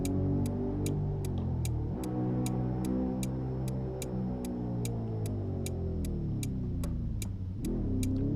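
A Tofaş Şahin car engine in Euro Truck Simulator 2 revs up and down in steady surges while a sharp, even ticking clicks along over it, loud and continuous.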